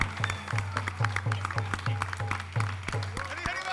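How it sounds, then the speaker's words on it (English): An audience at a wedding ceremony claps in a steady, rhythmic beat, close and continuous, with voices over it. "Can we ask you to please, a big round of applause for Mr. and Mrs. Kanse Patel, Labanga Mataji"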